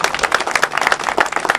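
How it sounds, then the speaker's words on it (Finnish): Audience applause at an outdoor Volvo enthusiasts' summer meeting in Finland, a short burst of dense, steady clapping from a nearby crowd with no talk over it. "Hei, antakaa aplodit itsellenne."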